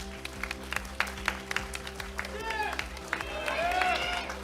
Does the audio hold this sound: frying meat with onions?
no